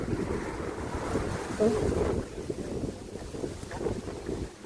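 Strong autumn wind in Berndorf buffets the microphone in continuous low rumbling gusts, with a brief exclamation from a voice partway through.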